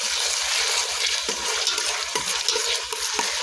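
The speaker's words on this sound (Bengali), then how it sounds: "আদাটা একটু পেঁয়াজের সাথে ভালো করে ভেজে নিচ্ছি" Ginger paste fries with onions in a pan, a steady close sizzle broken by rhythmic scraping stirs, with no talking.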